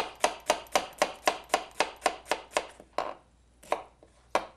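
A chef slices onions with a knife on a cutting board for tarte flambée, giving a quick, even series of about a dozen sharp, close knife taps, then a pause and a few slower chops.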